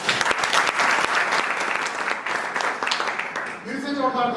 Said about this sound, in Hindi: जोरदार तालियां सुनिए